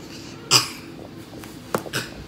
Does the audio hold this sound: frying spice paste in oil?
no